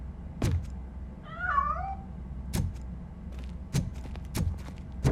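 Cat meowing in the Robocop video game: a single drawn-out, wavering meow near the middle, set against low game ambience and a few sharp thumps.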